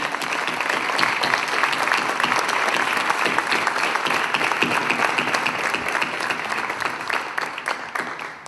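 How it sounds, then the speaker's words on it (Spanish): Sustained, loud applause from an audience at a presentation event in a cultural center, a thick continuous patter of many hands lasting several seconds. "Un aplauso para ella."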